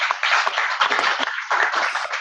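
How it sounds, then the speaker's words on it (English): A studio audience claps and applauds for a guest, a brief dense burst of many hands clapping at close range, steady and lively, with no talking. "let's give Matt just a nice round of applause here"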